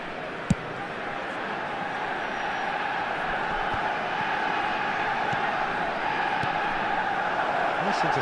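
Stadium crowd noise from the video game eFootball 2023 forms a steady, broad roar throughout, with a brief sharp thump near the start and a commentator talking over it.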